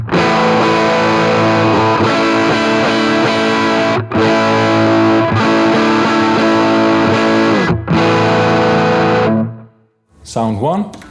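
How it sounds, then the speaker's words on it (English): Electric guitar through a NUX Mighty 20 MKII using its rat-style EAT distortion, with loud, hairy, saturated strummed chords sustained in long bursts separated by brief gaps, ending with a short fragment. "what they are calling the EAT dist, which is based on a rat distortion"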